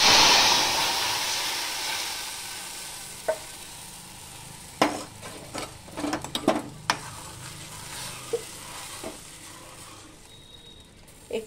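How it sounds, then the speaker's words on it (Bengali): A mustard and poppy seed paste bubbles in a pan after being poured in, starting with a loud sizzling hiss that fades into a quieter simmer, broken by scattered pops and a few clinks of a utensil. "আমার সর্ষে পোস্ত ফুটছে"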